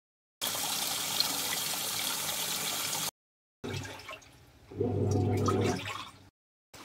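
Water pours and trickles into a Whirlpool 6.5 kg fully automatic washing machine as it fills, a steady rushing stream that stops briefly, then returns with a louder, fuller gush before cutting off.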